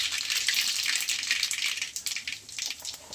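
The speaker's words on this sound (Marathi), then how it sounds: "मोहरी चांगली तर चालली ना ती जिरं टाकून घेणार आहे" Mustard seeds and cumin sizzle in hot oil with a steady, bright hiss and faint crackles throughout, close and fairly quiet.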